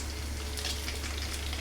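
Dried red chillies fry in hot tempering oil for gongura pachadi, making a steady, close crackling sizzle.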